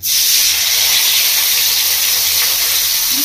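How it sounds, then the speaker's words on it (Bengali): A spiced mixture for a village-style curd and aubergine dish is poured into hot tempering oil, raising a loud, sustained hiss and sizzle that starts abruptly and holds steady throughout. "এবার আমি ফোড়নের মধ্যে ঢেলে দেবো।"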